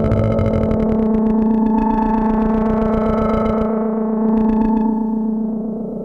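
The Pulse synth on a Teenage Engineering OP-1 sounds a thick, buzzing sustained tone with gritty harmonics and slight rhythmic flutter, holding steadily and loud for several seconds before easing off slightly.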